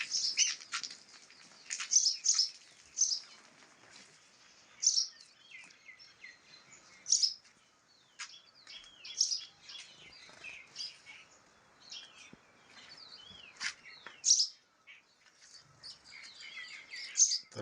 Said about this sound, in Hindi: मेरे बगीचे में बहुत सारी चिड़ियाँ हैं, बहुत सारी